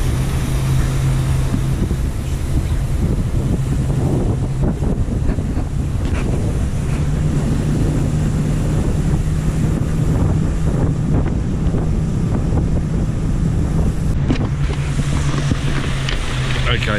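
A private speedboat cruises off El Nido in the Philippines, with loud continuous wind buffeting the microphone over a rushing water and engine roar, steady throughout with a low hum underneath.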